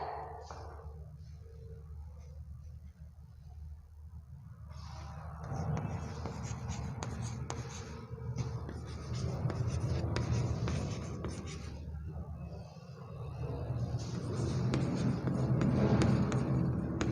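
Writing by hand on paper, a soft close scratching and scraping that comes and goes in strokes with brief gaps, no speech.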